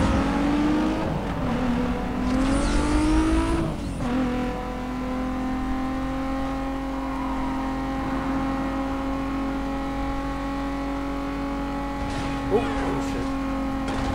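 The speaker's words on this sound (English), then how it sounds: "Toyota Supra, let's go." A Toyota Supra engine in a racing video game drones steadily at a fairly constant pitch, with a brief rising rev and tire noise early on, loud and continuous throughout.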